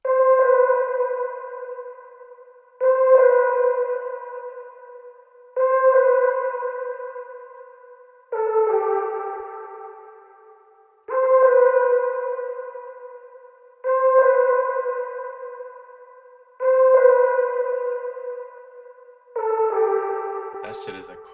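An RnB melody sample repeats a sustained synth-lead chord phrase in even bars of about three seconds, each starting with a sharp attack and then ringing out with echo. It plays loud and alone, with a brief burst of clatter at the very end.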